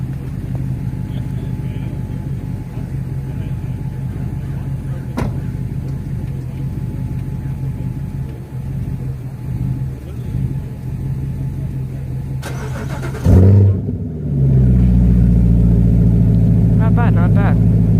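A Corvette engine idles quietly under talking, then cranks and catches, breaking into a loud, deep, rumbling idle for the last few seconds.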